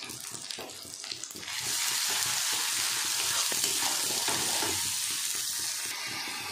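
Ground spices with turmeric and chilli powder frying in oil for a Bengali fish curry, a dense continuous sizzle that swells louder after a moment and then holds steady.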